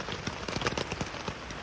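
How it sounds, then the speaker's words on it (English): Rain falls on a surface outdoors, a quiet patter of scattered drops tapping irregularly for a brief moment. "I don't care it's raining."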